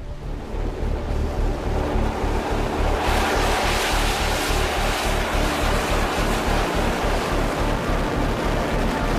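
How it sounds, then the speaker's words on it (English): A geothermal well releases a powerful steady roar of rushing steam that builds and surges into a loud broadband hiss, continuous and close, with no voices. "A torrent of steam capable of rotating a turbine"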